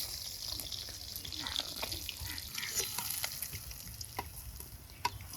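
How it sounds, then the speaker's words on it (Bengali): Nigella seeds hit hot oil left in the pan after frying silver carp for a fish curry, giving a faint, steady sizzle with a few light crackles and no talk. "এখন তুলে ফোড়ন দিয়ে দিই"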